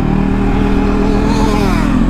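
A motorcycle engine revs loudly and steadily nearby, its pitch rising and falling under a constant rumble, bouncing off the rev limiter, with no talking.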